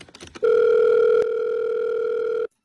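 A telephone sounds one loud, steady electronic tone lasting about two seconds and then cuts off abruptly, after a brief scuffle of faint noise.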